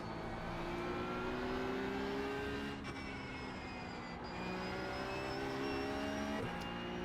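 A race car engine drones at high revs in a racing simulator game, a loud, steady harmonic whine that shifts pitch slightly with two brief dips as gears change, with no talking.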